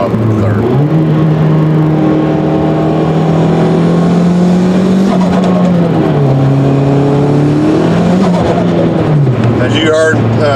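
A turbocharged car engine with a slipping clutch revs up and holds high, the pitch climbing and dipping in several surges, loud and close, with someone talking over it.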